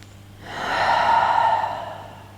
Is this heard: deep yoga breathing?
yes